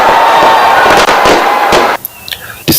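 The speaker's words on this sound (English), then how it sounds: "The city's sky is aglow with brilliant fireworks as the spirit of 2025 begins to sparkle." Fireworks boom and crackle over Auckland, New Zealand, at a New Year 2025 celebration. The bursts are loud and dense with a constant roar, then give way to quieter scattered pops and a final sharp bang.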